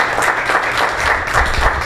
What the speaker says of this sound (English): Give him a big applause here.